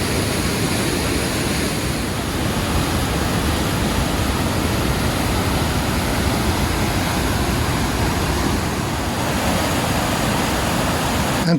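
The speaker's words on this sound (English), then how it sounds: "Turning streams into torrents and waterfalls." A rain-swollen torrent and waterfall at the Sopot Cave pours in a steady, loud, unbroken rush of broadband water noise, with no voices.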